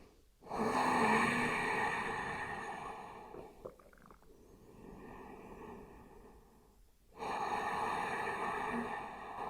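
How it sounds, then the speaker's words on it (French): Slow, deep yoga breathing during a Hatha practice, a long airy inhale followed by a full exhale, then another breath beginning, close and alone with no talk. "Inspire profondément. Et expire entièrement."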